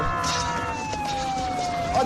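An ambulance siren wails with a steady tone that glides slowly downward over a busy background, in a scene where a man is trapped standing on a mine.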